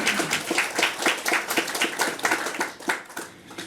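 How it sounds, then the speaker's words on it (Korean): Applause from a forum audience welcoming a guest speaker to a lecture, with fairly close, uneven clapping from a modest crowd in rhythmic bursts that fade slightly toward the end. "큰 박수로 맞이해 주시기 바랍니다."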